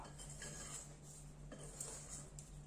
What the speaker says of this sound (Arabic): غادي نحاولوا هكا نخلطوه، ديما نقلبوه على جهه وحده